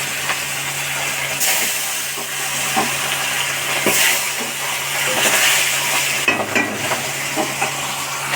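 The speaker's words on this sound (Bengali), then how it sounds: "এবার এই মাছগুলোকে ভেজে নেবো" Continuous loud hiss of catla fish frying in oil, with occasional stirring scrapes and a low background hum, close by and without speech.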